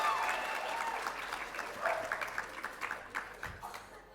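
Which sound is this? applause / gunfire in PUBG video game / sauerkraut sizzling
applause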